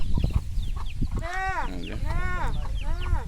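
Hill-breed hens and roosters cluck and call nearby in several drawn-out, wavering bursts, with scattered footsteps and shuffling around them.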